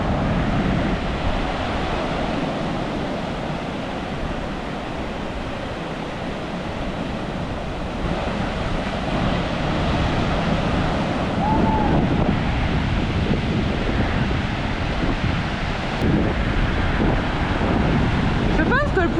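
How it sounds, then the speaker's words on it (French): Big ocean waves roll and crash steadily at a surfers' beach, a continuous loud roar of surf mixed with wind buffeting the microphone, with no other sound standing out. "il y a des big vagues quand même"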